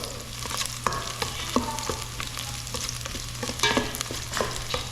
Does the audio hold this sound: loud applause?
no